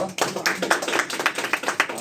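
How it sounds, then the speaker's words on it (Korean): An audience at a Korean talk show on hate speech on social media claps in a short, rhythmic round. Talking continues through the applause. "박수 한번 주세요."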